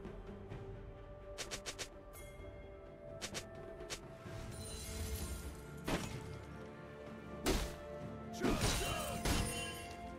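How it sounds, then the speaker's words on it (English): Turret being destroyed in League of Legends during a Warwick versus Olaf top-lane match, heard as a run of crashing, smashing impacts and thuds spread over several seconds amid game clutter. "Blue team's turret has been destroyed."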